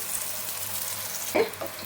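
Brinjal slices fry in oil with a steady soft sizzle and a brief clink partway through.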